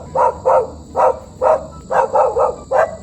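A dog barks close by, about eight sharp, loud barks in quick succession with a few brief pauses, over a faint steady background hum.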